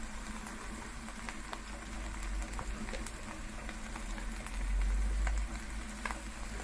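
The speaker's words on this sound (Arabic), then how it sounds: "هنزل بقى البصل والطماطم." Chopped onions and tomatoes fry in a pan with pasta, making a faint, continuous sizzle with scattered small crackles and pops.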